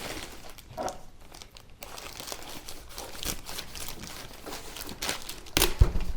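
A knife cuts open the packaging of a game console bought for repair, with close crinkling and tearing of plastic and cardboard. The rustles come in irregular bursts, with a sharp crackle near the end.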